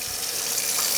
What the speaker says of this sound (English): run this under running water